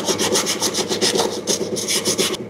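Sandpaper rubbed by hand on car brake parts of an old Toyota Corolla, a steady rhythmic rasping of quick back-and-forth strokes, close and fairly loud, with no talking.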